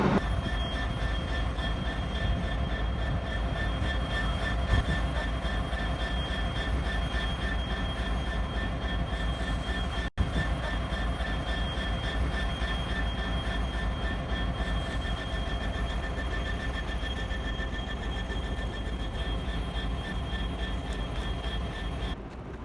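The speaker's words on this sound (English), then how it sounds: "And this is our main train station, Waterfront Station," A train rumbles steadily at Waterfront Station in Vancouver, with faint wheel squeal and a constant mechanical hum throughout, no voices.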